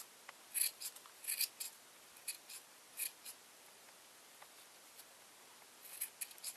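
Scissors give quiet, close snips while trimming a small yarn pom pom, about a dozen short cuts arriving in uneven clusters over near silence.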